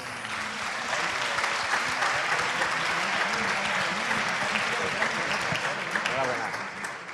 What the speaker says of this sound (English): Big clap, big applause for those guys